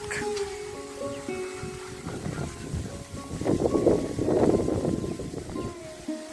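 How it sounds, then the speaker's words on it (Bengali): Strong wind roars and buffets the microphone over floodwaters, swelling louder midway, with no one speaking. "বাতাসের শব্দ অনেক"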